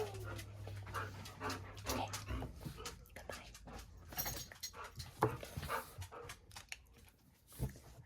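A dog barks and pants up close in a home sewing space, with sharp irregular yelps and breathy bursts while a person talks over it.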